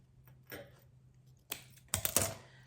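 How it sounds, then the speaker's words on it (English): Scissors snip through patriotic star-print bow ribbon in a quiet room, a couple of close, crisp cuts and rustles building to a denser burst of snipping near the end. "So what I'm going to do is cut this in half."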